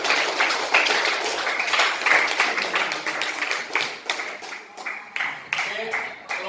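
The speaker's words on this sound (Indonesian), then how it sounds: "Berikan tepukan kepada kelompok 3." Classroom applause for a student group after their presentation, a few seconds of scattered, fairly close hand claps with uneven rhythm that thin out toward the end.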